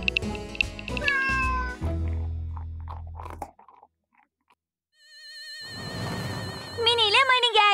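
Cartoon cats meow repeatedly and loudly just before being fed, with a clear cluster of rising and falling meows near the end and speech heard earlier.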